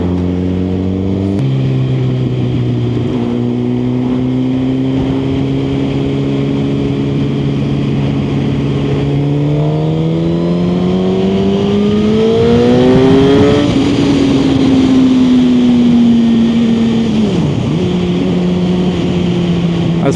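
A motorcycle on new tyres pulls out and accelerates past slower traffic on a country road, its engine note holding steady and then climbing in pitch as it revs harder, with continuous wind rush throughout.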